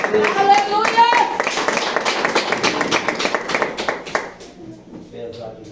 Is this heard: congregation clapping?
yes